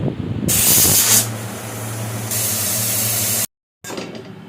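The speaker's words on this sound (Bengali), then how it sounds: "জলটা প্রেসারে দিয়ে সিটিটা দিয়ে নেব।" A pressure cooker cooking mutton for biryani lets off two loud, sustained bursts of hissing steam with a low droning undertone, then cuts to brief silence and a softer hiss.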